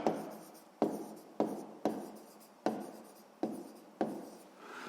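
Pen or pencil writing by hand on paper, close and quiet, in seven short scratching strokes spaced roughly evenly over a few seconds, each starting sharply and fading, with no speech.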